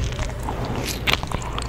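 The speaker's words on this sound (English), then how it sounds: "Can we start on you crunching that shit?" Someone crunches and chews food close to the microphone, producing a short burst of crisp, crackly bites and moist mouth sounds over a low hum.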